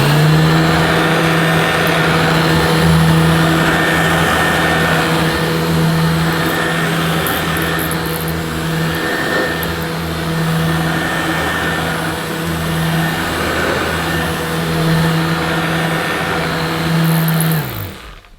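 A Dirt Devil Broomy Broom Vac 750 runs over short pile carpet, putting out a loud, steady motor whine with a constant hum and slight rises and falls as it is pushed. Near the end the motor cuts off.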